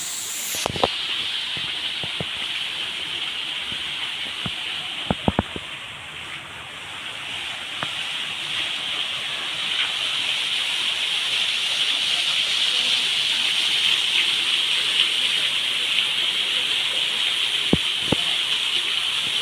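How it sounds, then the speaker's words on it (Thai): Tham Soda waterfall and its small stream: a continuous, loud hissing rush of falling and flowing water, close by and unbroken, with faint occasional knocks and movement beneath it. "ตรงน้ำตก"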